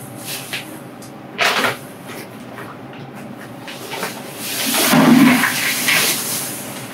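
A soil sample is poured from a bag into a rinsed bucket during archaeological flotation in a lab, with a soft rustling pour swelling over a few seconds amid quieter handling sounds, no talk.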